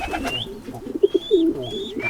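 Domestic pigeons kept in a dark enclosed coop coo nearby, giving a few soft throaty rolling calls over a faint background of thin chirps and shuffling.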